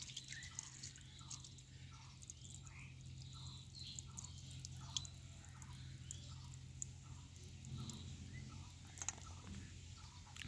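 Jackfruit seeds being washed in water, with soft repeated sloshing and light dripping in a regular rhythm over a low steady hum. Quiet and close, with no voices.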